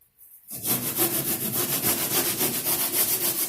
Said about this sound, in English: What you really want to do is sand down all this bone crap